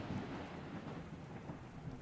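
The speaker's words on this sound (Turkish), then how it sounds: "Bu arada ilk defa yağmur görüyorum." Steady rain with rumbling thunder fills a storm scene in the survival game Ark: Survival Evolved, Ragnarok map, a continuous wash of falling water with low booms underneath and no talking.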